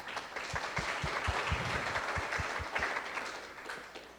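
Audience applause at a talk on US real estate auction investing, a steady wash of many hands clapping for several seconds that swells and then fades.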